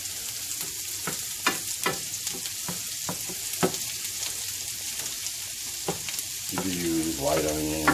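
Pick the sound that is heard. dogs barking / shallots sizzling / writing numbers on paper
shallots sizzling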